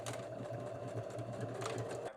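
A sewing machine stitching a McCall's 7349 dress, running steadily at close range with a rapid even needle rhythm and mechanical whir for about two seconds, alone with no voices.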